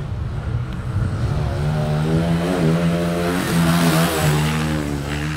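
A motocross motorbike engine revs up nearby, its pitch rising and falling in a loud steady drone.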